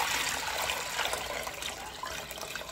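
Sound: hot tap water poured into pot of beans

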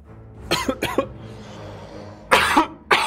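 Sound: cough

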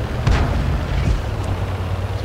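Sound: tank cannon fire in a video game

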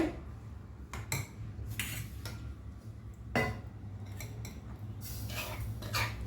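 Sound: transferring Bombay rava into another vessel

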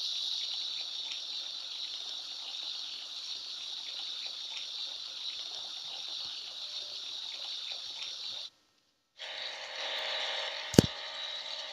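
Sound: washing the car with water in a kids' video game

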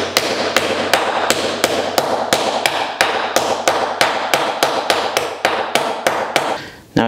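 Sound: hammering fine silver into dome on dapping base

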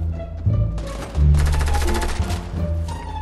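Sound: gunfire in the video game Fortnite

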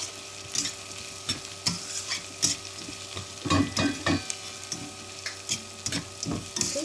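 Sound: stirring vegetables in a pan for upma

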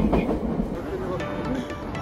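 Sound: Tokyo subway train at Shinjuku Station

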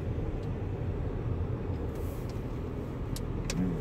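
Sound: road traffic, passing cars

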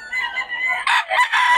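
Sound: chickens and roosters at a market

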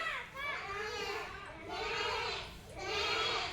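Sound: child imitating goat bleat

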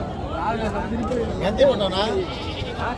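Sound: sheep bleating at the Gudur sheep market

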